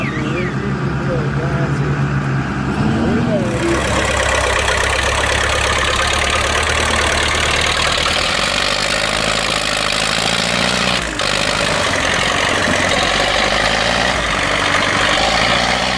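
Loud, steady diesel engine drone with heavy low rumble as two tractors pull a stuck vehicle from mud, straining under load, continuous throughout, with no clear speech.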